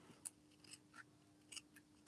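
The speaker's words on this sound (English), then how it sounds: "just get your scissors and cut your dimensionals in half" Scissors cut small foam adhesive dimensionals in a few faint, crisp snips spaced irregularly, close and quiet with no talking.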